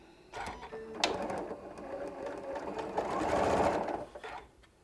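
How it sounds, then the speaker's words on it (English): A sewing machine stitches stretchy bias-cut fabric in a continuous close mechanical whir with rapid needle clatter, speeding up and then slowing to a stop. "let the machine do the work"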